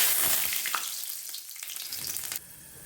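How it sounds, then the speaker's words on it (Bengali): Panch phoron spices dropped into hot oil, a loud bright crackling sizzle right at the start that gradually settles into steadier frying, close and without voices. "আমি এখন পাঁচফোড়ন দিচ্ছি।"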